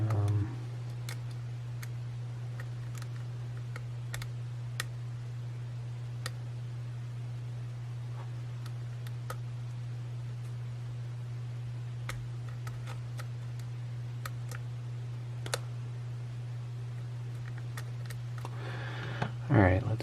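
Small, sharp clicks from picking an Assa Abloy Keso 2000s Omega lock, sparse and faint over a steady low hum, with a louder rattle at the end.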